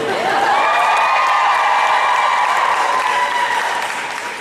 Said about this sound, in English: So give me a cheer if you're a fan